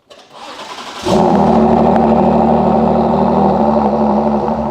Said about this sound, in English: now, let's have a cold start